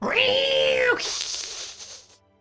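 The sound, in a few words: voice imitating cats meowing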